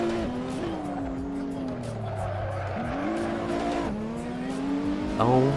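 A KTM car, around 300 horsepower, races on the Nürburgring in the Assetto Corsa driving game, its engine note rising and falling through gear changes with sliding tire squeal, a voice briefly speaking over the engine.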